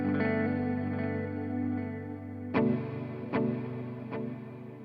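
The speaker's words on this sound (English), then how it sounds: "Here is the digital delay." Guitar through the digital delay mode of an Alexander Pedals Rewind programmable echo pedal: a sustained ringing chord fades, then a sharp picked strum repeats as clean, evenly spaced echoes that decay one after another.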